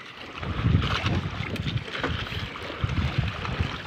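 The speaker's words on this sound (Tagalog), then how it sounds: "Tanghali na, malakas na ang hangin." Strong midday wind at sea near small fishing boats, buffeting the microphone in heavy gusts with water and hull noise underneath, no voices.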